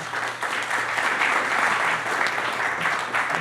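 Applause from the audience at a fishing and aquaculture panel discussion in Sinaloa, steady dense clapping filling the room for a few seconds as the presenters are welcomed.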